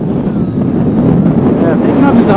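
A Bayer Model 32-inch Crack Yak 55 radio-controlled plane flies in strong wind, its steady engine and propeller drone filling the background at moderate level with gusty wind noise mixed in.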